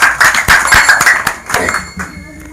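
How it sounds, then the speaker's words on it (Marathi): An audience claps together at a devotional kirtan gathering, a loud, close burst of quick, rhythmic hand claps that tapers off within a few seconds. "माऊली महाराजांसाठी टाळ्या वाजवा एकदा."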